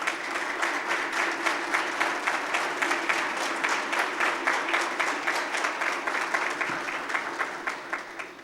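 Sustained audience applause welcomes an honoree at a women's stage event in Gujarat, with dense, steady clapping throughout and rhythmic swells, fairly loud and close.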